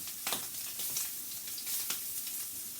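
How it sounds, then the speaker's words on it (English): Rice frying in a hot pan for shrimp fried rice, a steady close sizzle with soft crackles and a few stirring scrapes, no voices. "I always like to let my rice kind of like fry a little bit in my pan"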